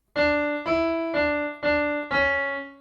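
Five sustained keyboard notes of the Ganesh Aarti "Ek Dantay Vakra-tundaya" play one after another in a slow, even rhythm, clear and close with no talking.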